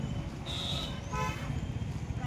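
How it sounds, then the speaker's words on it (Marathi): Car horns toot amid a road traffic jam where fallen trees block the way, with a steady roadside rumble beneath and two short horn blasts standing out, one higher and one more nasal and buzzing. "इथपर्यंत ट्रॅफिक जाम झालाय."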